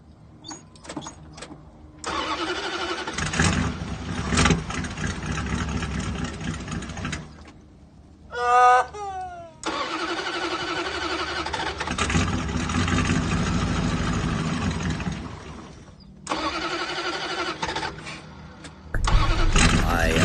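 A 1988 Chrysler Fifth Avenue with a new fuel filter cranking and catching several times, its engine running unevenly between cut-outs, close up, with a short high whining burst partway through.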